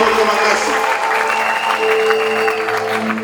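A church congregation applauds for the glory of God, loud sustained clapping from many hands filling the hall, with voices and a held tone mixed in beneath it.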